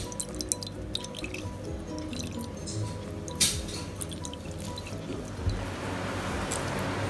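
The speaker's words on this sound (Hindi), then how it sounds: "अब आप इसको केयरफुली ड्रेन कर ले ताकि दही का सारा पानी निकल जाए।" Water drains from hung curd (yogurt) in a kitchen, with close, irregular drips and soft wet squishes that grow into a fuller trickle toward the end, and no voices.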